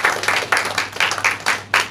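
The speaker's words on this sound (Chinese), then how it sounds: "我们给他们一个鼓励的掌声。" A church congregation at a Sunday service claps in short bursts of applause, about seven quick swells in two seconds, close and fairly loud.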